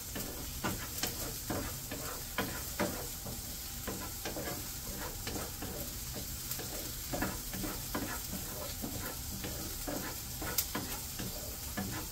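Garlic, onion and chicken liver sauté in a pan with a steady, close sizzle, while a utensil stirs and scrapes in frequent light clicks and taps. No voices are heard.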